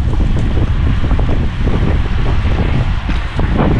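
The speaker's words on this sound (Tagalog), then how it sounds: "Ah, lakas ng hangin dito." Strong wind buffets the microphone while cycling into a headwind on a new Pinarello Dogma F road bike, a loud continuous roar and rumble that fills the whole stretch with no talk over it.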